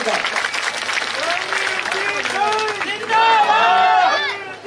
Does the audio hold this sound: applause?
yes